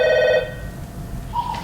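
A telephone bell rings loudly for a single short burst at the start, followed by a quieter electronic tone in a room with steady low background noise.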